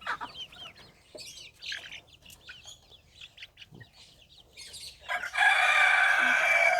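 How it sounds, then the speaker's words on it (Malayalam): Native Kerala country chickens at a poultry sale in Palakkad cluck and chirp nearby in scattered bursts, then a rooster lets out a loud, sustained crow at the end. "ഇതൊക്കെ പ്യൂർ നാടൻ കോഴികളാണ് കേട്ടോ"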